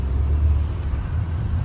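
A car driven fast along an open road in India gives off a steady low rumble of engine and road noise, close and continuous, with no talk.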